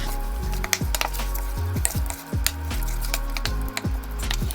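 Crawfish tails with added seasonings and salt cook down in a pan with a steady low sizzle, broken by occasional light clicks and knocks of a utensil.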